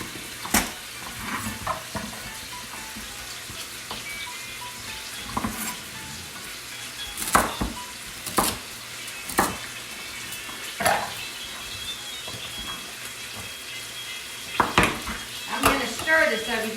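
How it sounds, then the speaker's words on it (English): Jambalaya ingredients, including diced celery, sizzle in a pan while being stirred, with a steady frying hiss under repeated sharp clinks and scrapes of a utensil against the cookware. The sounds are close and there is no talk. "Do you hear it sizzling?"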